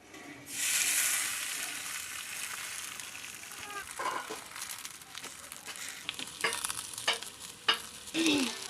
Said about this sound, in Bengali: কড়াই গরম হয়ে গেছে। আমি কচু পাতার মাছটা দিয়ে দেবো।